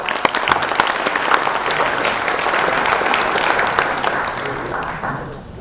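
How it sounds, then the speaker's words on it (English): Audience applause for a jazz band at an anniversary celebration event, a steady dense clapping wash that holds evenly for several seconds and then tapers off slightly near the end. "So let's give them a round of applause."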